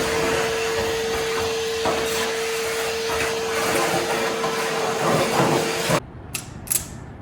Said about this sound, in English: Vacuuming again.